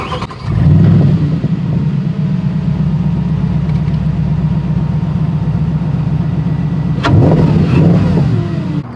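A Spyker C8 Spyder's engine cranks and fires, settling into a loud, steady idle close by, then a second brief blip or restart near the end.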